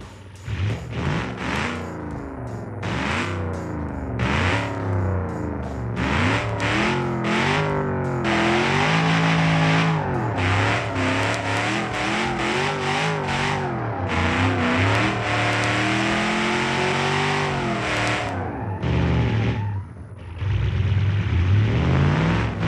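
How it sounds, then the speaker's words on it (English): A drag racing car in BeamNG.drive, the third-place finisher, revs its engine loud and close, with rising and falling pitch sweeps and harsh distorted tones that hold steady for long stretches before cutting off abruptly near the end. "let's hear the third place engine noise"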